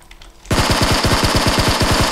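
An MK47 rifle fires in PUBG Mobile: a sudden, loud, rapid burst of evenly spaced shots starts after a quiet half second and keeps a steady rhythm to the end, close and dominant.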